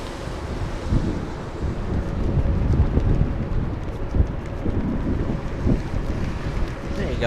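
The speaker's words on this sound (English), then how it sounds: "the wind's really picking up here" Strong wind sweeps across Los Angeles International Airport, a loud, continuous rumbling buffet with gusty swells battering the microphone.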